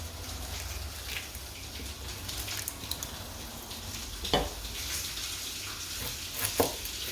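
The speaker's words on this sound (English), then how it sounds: "I'm cooking a chop to go with this, so I'm cooking a pork chop" A pork chop fries in a pan, giving a soft, steady background sizzle with a low hum beneath. A few sharper clacks and spits rise briefly above it, faint and somewhat distant.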